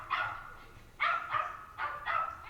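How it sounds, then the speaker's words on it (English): A dog barks in short bursts, four clusters of two or three yaps each, moderately loud and slightly distant. "Sorry about the barking outside"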